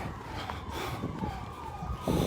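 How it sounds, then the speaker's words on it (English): Emergency sirens wail some distance down a city street in St Paul, Minnesota, a falling tone riding over steady traffic and street noise. "Further down the street, In the down towards University, towards Greg Street, I hear sirens."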